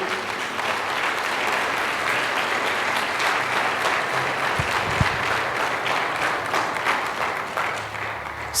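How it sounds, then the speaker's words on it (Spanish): A church congregation breaks into sustained applause during a Spanish-language worship service, a dense steady wash of many hands clapping at even loudness throughout, with no speech over it. "Den un aplauso al Señor."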